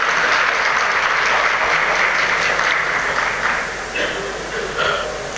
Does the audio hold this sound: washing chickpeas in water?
no